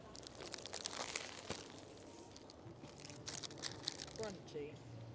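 Crisp crunching and crinkling of a bite of kebab being chewed up close, quiet and scattered over a few seconds.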